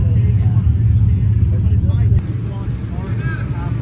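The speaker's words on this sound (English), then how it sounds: "This will officially be his first burnout of the Drag and Drive event." Loud roaring engine from a car doing a burnout at a Drag and Drive event during the Redwood Rally, a dense rumbling drone that dips slightly partway as the revs shift, with no voices.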